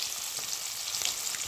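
Fish set into hot oil in a pan, giving a continuous soft sizzle and crackle at close range with no one talking.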